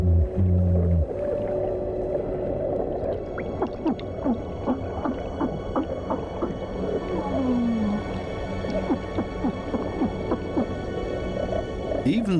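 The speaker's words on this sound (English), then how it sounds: "Even this little porcupine fish bleats around. It creates this sound with its swim bladder." An underwater reef soundscape with a porcupine fish producing bleating, creaking calls from its swim bladder, repeated grunts and squeaks over a steady murmur of crackling water noise.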